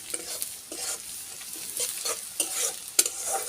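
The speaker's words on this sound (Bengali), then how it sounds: "তেজপাতাগুলো হালকা বাদামি করে ভাজা হয়ে গেছে।" Bay leaves fry in hot oil in a pan while preparing a Bengali fish dish, giving a soft, continuous sizzle broken by repeated scraping stirs, moderately close and with no talk.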